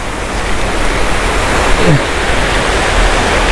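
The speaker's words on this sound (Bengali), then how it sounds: "জল যাচ্ছে এখান দিয়ে" Water rushes past in a broad, steady roar, loud and close, with a voice briefly heard over it.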